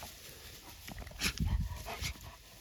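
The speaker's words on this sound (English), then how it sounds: "You're going to make a great guard dog." An Armenian Gampr dog nearby gives soft, high whimpers mixed with quick panting breaths. The sounds are quiet and come in short irregular bursts.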